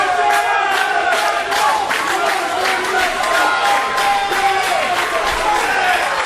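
The crowd at a Super Indy 17 independent pro wrestling match, Jonathan Gresham vs. JaXon Argos, roars and cheers steadily, with rapid bursts of shouts and claps under a commentator's voice.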